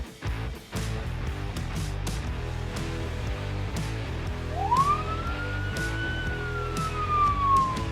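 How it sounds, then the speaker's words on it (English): Police car siren starting up as the car pulls away after a driver who ran a red light, one rising wail that sweeps up and holds, heard from inside another car over rhythmic ticking and road rumble. "A police car waiting at the same light took off after the red light runner, party lights active"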